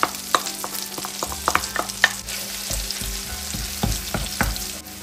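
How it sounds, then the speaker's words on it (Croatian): Onion sautés in butter in a pan, a close sizzle with a quick run of utensil scrapes and taps as it is stirred, easing to a steadier fry toward the end. "I sad ćemo da dinstamo ostalo povrće. Znači dodajem luk."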